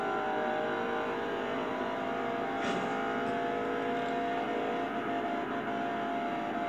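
A Corvette engine revs in the racing video game Forza Horizon 2, a continuous mid-pitched roar that stays steady at moderate volume with no talk.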